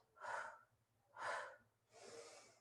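Three forceful breaths blown out in quick succession during a twisting exercise, each a short, close, breathy push of air with a brief pause between them.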